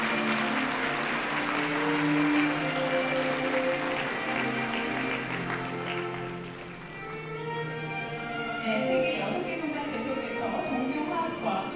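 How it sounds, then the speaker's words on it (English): A crowd applauds at a peace commemoration ceremony, sustained clapping that swells and then eases midway while voices and ceremony sounds mix in underneath. "Please give them another round of applause."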